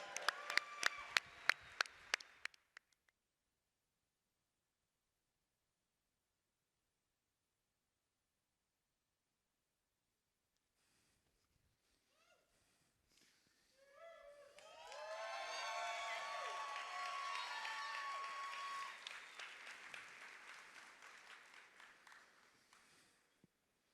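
An audience at a workplace summit plenary claps and cheers to welcome Dell Technologies speakers to the stage: a short burst of applause, a long silence, then sustained clapping and cheering that swells and fades.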